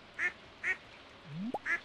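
Ducks in the farming video game Stardew Valley give three short, quiet quacks at even spacing, with a brief rising chirp-like game tone between the second and third.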